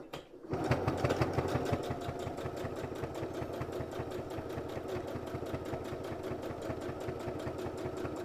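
A sewing machine stitches down both long edges of a folded fabric bag strap, its needle ticking in a fast, even, continuous rhythm, close and moderately quiet, with no talk.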